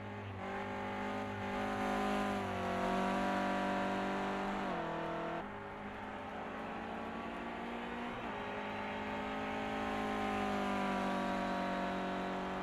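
A Clio Cup race car laps Silverstone National in a racing video game, a steady loud engine drone with two sharp gear-change dips in pitch, the revs climbing again after each, no voices.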